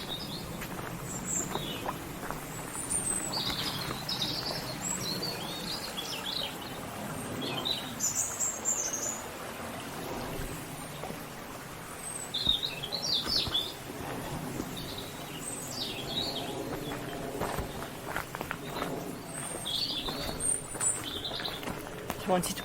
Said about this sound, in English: Wanted to pause there and let you enjoy the bird song and the stream.